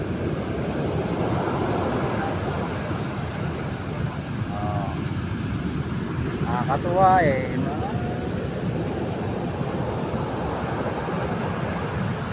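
Steady roar of rough ocean surf in La Union, Philippines, rolls on throughout, loud and continuous, with a few brief spoken words briefly rising above the waves.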